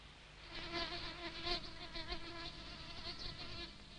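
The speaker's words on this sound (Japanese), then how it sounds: "バカにハエが多いな" Houseflies buzz steadily and close by aboard a boat, a continuous droning whine with shifting pitch that swells and fades slightly, with no voices over it.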